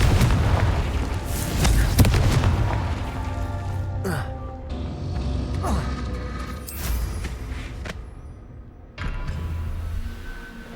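Fiery Confringo spell blasts in a Hogwarts wizarding video game, a run of booming explosive bursts over a dense, continuous rumble with layered game effects, loud and close throughout.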